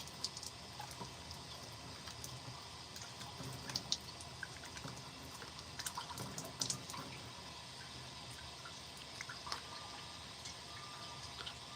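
Running tap water splashes gently during rinsing off, a soft continuous flow with small drips and splashes, faint and close.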